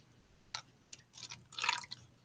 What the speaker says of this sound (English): so I'm going to pour it into this cup